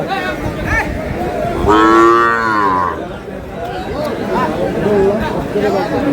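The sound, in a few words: cow mooing at a cattle market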